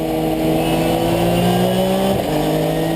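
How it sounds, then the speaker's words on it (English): A pack of BMW race cars in the Supercar Challenge at Zolder pulls away from a rolling start, engines droning and rising in pitch together, loud and close, with one gear change partway through and no voices. "Waiting for the lights to change, holding speed, and away they go."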